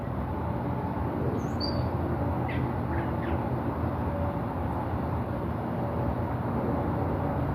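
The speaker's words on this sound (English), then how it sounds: "That bird wants to be heard" A brief, sharp bird squawk rings out early, followed by a few faint calls, all over a loud, steady background rush.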